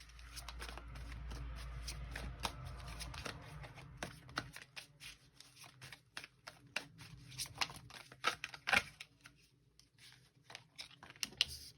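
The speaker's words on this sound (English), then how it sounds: "So we're gonna pull some cards" Tarot cards are shuffled close and quiet, with a soft riffle early on, then a string of crisp slaps and flicks at uneven intervals.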